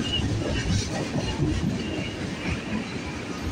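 A CN or CP freight train rolls past close by on Victoria Day, a steady loud rumble of wheels and rail clatter with faint clicks throughout, no break in the noise.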